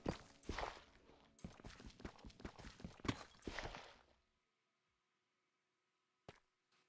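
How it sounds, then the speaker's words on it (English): Footsteps in the video game Minecraft, a fast run of close, crisp steps for about four seconds, then silence broken by one more brief step and a faint tap. "I can hear footsteps."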